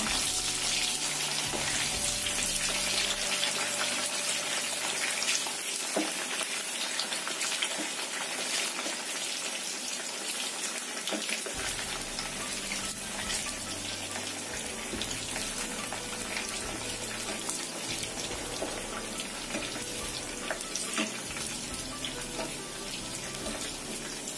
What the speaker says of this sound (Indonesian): Goreng api panas 5 menit itu sudah cukup.